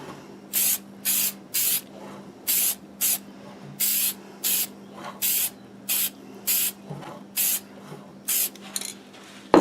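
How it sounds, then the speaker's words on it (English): Short bursts of hissing spray from an aerosol can of lacquer onto a turned black locust wooden bowl, about fifteen quick regular puffs separated by pauses, close up over a low steady hum. "So I will just spray this,"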